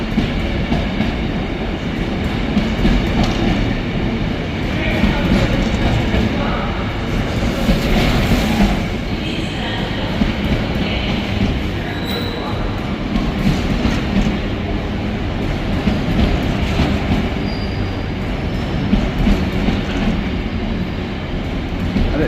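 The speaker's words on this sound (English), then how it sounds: "It was a double-headed Class 88, so it was 88001 Revolution and 88006 Juno." A freight train hauled by two Class 88 electric locomotives runs past at Carlisle, with a steady rumble of wagons and rhythmic wheel clatter that stays close and sustained, alone without voices.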